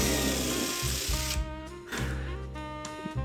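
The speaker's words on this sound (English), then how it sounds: "pre-drill a couple of holes here that I'll send some screws through" Power drill driving screws through pre-drilled holes into a wooden frame, a close, loud whirring motor that surges in bursts with short pauses between runs, no talking.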